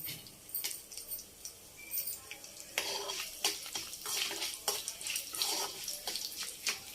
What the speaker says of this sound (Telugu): ఇప్పుడు ఎండుమిరపకాయలు వేసుకుందాం